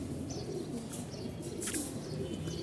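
Coloured pigeons coo softly in a loft, low repeated murmuring tones with occasional faint chirps and brief wing flutters, fairly quiet and steady throughout with no talk.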